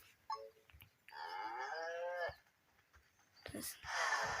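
Cows moo in the video game Green Farm 3, one long drawn-out low call followed by another, with a few soft clicks between them and no talking.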